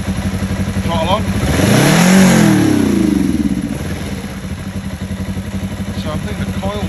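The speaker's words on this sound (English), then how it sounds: "watch what happens as I apply revs on a warm engine. I've still got the throttle on. Throttle off to catch it running. Throttle on." A 2005 Kawasaki ER5 twin-cylinder motorcycle with a running problem, warm engine revved up and held, then dropping back to a rough, pulsing idle, loud and close, with someone talking over it.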